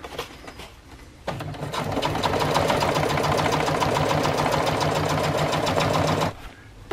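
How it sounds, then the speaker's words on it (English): A sewing machine runs in one steady burst of about five seconds, stitching fabric along a paracord guide for a sleeping bag stuff sack, its rapid needle chatter close and even before it stops. "You just keep it to the outside of the foot of the sewing machine and just sew right down along it like a guide."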